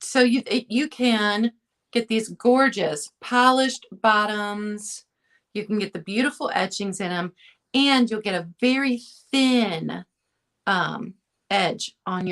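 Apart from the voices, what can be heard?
No distinct noise like a dog, phone or traffic.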